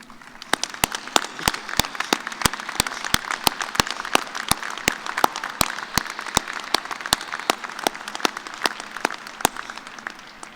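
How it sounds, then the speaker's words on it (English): Graduation ceremony audience applauding family members of the graduates, a moderately distant, steady crowd clapping with sharp individual claps standing out, continuing without speech. "let our graduates say thank you with a big round of applause"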